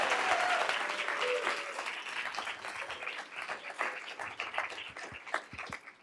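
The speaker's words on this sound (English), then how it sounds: "Let's give us a round of applause" Audience applause at a school board meeting, a dense continuous patter of many hands clapping that stays loud throughout and slowly thins toward the end.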